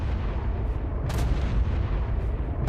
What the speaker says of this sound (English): why am I hearing explosions?